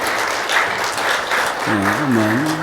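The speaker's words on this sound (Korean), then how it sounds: "박수로 한번 환영하겠습니다" Church congregation applauding to welcome visitors during a Sunday service, a sustained patter of clapping with a voice briefly speaking over it near the end.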